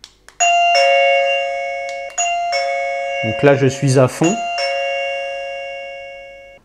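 An ieGeek Bell J10 wireless doorbell chime rings out sustained bell tones, pauses, then plays a new melody with quick rising notes before settling into another long ringing tone, while someone speaks French briefly.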